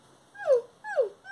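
A cartoon puppy in a pony game whimpers twice, giving two thin, falling whines in a quiet, close setting.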